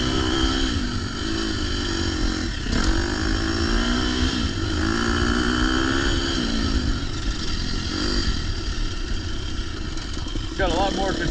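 A Husqvarna 250 two-stroke motocross motorcycle engine revs and drones steadily throughout a ride, loud and continuous with slight pitch swells, with wind noise and a voice talking over it.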